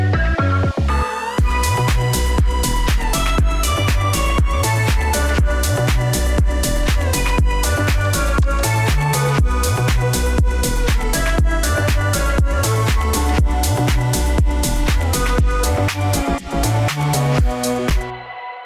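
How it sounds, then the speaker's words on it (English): Synthesizer lead solo with pitch bends gliding between notes, loud and up front over a dense electronic backing track with bass and drums, playing continuously with no talk. "I have this like cool little synth solo that happens in this track"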